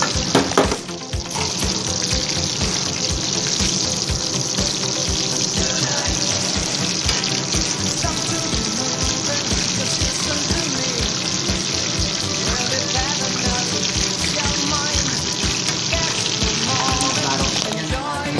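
Breaded pork chop, marinated in garlic, vinegar, salt and pepper, frying in a pan aboard a ship's galley, a steady dense sizzle and crackle of hot oil that runs continuously and fairly loud throughout.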